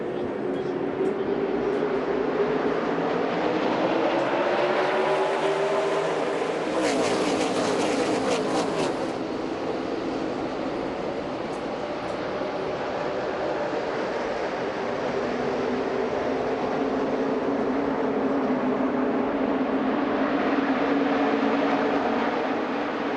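NASCAR Xfinity Series stock cars roar around Michigan International Speedway during a race restart, a continuous loud engine drone with shifting pitch as the field passes, a brief burst of sharper noise partway through.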